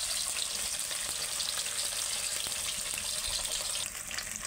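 Fish pieces fry in hot oil for a pomfret and prawn dish, giving a steady, dense sizzle with faint crackles and occasional utensil taps, close and continuous throughout.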